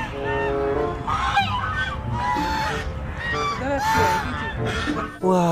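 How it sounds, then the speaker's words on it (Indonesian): A goose honks repeatedly and loudly up close, a rapid series of nasal calls overlapping throughout, with a voice occasionally audible underneath. "ini angsa"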